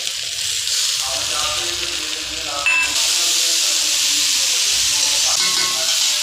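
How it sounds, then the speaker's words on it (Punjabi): Water splashes into a hot pan of cooking tomatoes for a bhindi curry, bursting into a loud, steady sizzle and hiss that carries on throughout. "ਹੁਣ ਪਾਣੀ ਦੇ ਪਾ ਦਾਂਗੇ ਟਮਾਟਰ"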